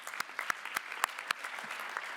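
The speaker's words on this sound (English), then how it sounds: "please give them a round of applause" Sparse applause from a high school honor society induction ceremony audience, scattered individual claps sounding thin and moderately distant in a large room.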